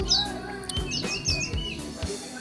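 A kacer (oriental magpie-robin) sings close by in a series of sharp, varied chirps and whistled phrases over a low background hum and some soft knocks.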